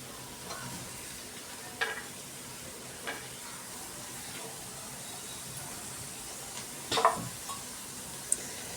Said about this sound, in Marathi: आणि त्यासुद्धा मीडियम गॅसवरती चांगलं परतून घेणार आहे.